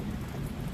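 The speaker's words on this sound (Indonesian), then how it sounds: "Posisi sekarang di kebun dengan kondisi yang hujan deras sekali" Heavy rain falls steadily over a garden, a dense, even wash of hiss and patter with no pauses and no voices.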